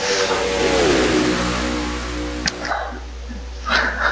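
Race car engines revving and pulling away in a stock car racing game, a loud rising engine pitch that settles into a steady drone with a few brief knocks.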